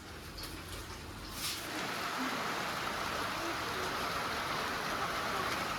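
Soft rain falls under sunshine, its faint steady hiss growing slightly fuller after the first second and holding even to the end.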